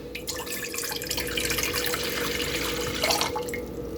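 Water pours steadily from a kitchen tap into a pot being filled for boiling, a continuous close splashing rush at moderate level, with no talking.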